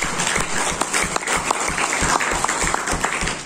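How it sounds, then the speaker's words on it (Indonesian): An audience claps in a burst of applause for Ibu Sofi at an Indonesian customs seminar; dense, steady clapping fills the room from start to end, fairly loud and close. "Kita berikan aplaus untuk Ibu Sofi."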